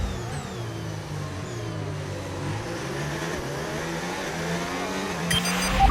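Formula One car engine in a racing video game at the Austrian circuit, a steady high droning whine that holds and shifts slightly in pitch as the throttle eases, loud and continuous with no talking.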